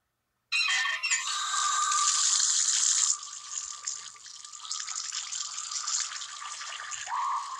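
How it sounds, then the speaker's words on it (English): A water tap in the Evil Nun video game runs in a steady, bright rush that starts abruptly, stays loud and close, then eases slightly in volume while continuing alone. "Water tap?"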